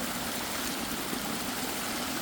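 Water in a creek along hill trails flows in a steady, soft rushing wash with no breaks and no voices.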